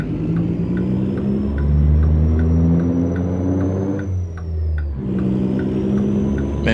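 Reworked 1987 Marmon truck in American Truck Simulator revs hard through high RPMs with a deep, loud engine drone, a brief dip as the gear shifts around the five-second mark, then climbs again, with no voices.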